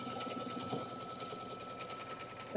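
Sewing machine running steadily as it stitches fabric for a poppy bag, a continuous close mechanical whir with fast regular needle rhythm throughout.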